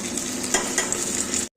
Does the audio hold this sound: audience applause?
no